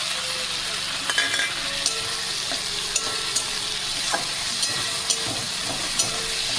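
Ginger garlic paste and chopped tomato fry with chicken in a little oil in a pan: a loud, dense sizzle runs throughout, broken by regular sharp scrapes and clacks of a stirring spoon, with no voices.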